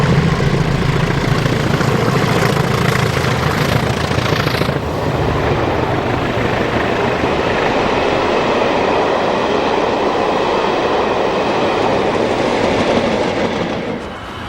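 A pair of Class 37 diesel locomotives haul the Pathfinder Tours Norfolk Broadsman railtour in England in March 2011, with another Class 37 at the rear. The engines roar loudly and steadily alongside, with the rolling rumble of the train continuing throughout.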